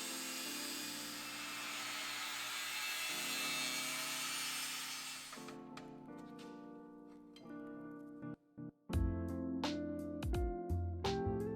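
A power tool trimming off a metal fender bracket on a Jeep Wrangler, a loud steady cutting whine for several seconds, then stopping, followed by metallic clanks and knocks.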